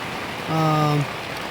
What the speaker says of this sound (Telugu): ఒక రేంజ్లో అయితే వర్షం పడుతుంది